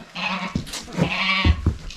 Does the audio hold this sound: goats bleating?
yes